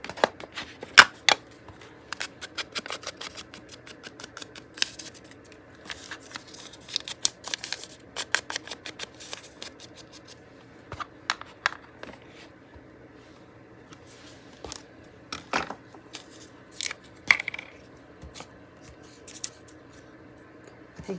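Scissors trim Christmas ephemera paper, giving soft, close snips and rustles in irregular bursts over a quiet background, with no speech.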